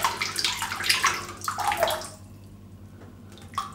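A tap runs water to wet a shaving brush, a splashing rush for about two seconds that then fades to a quiet trickle and a few faint drips.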